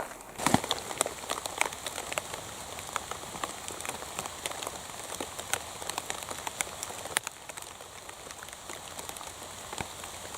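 Steady rain patters and drips on the moist ground of a forest in a British Columbia park, a continuous close hiss with scattered sharp drop impacts throughout.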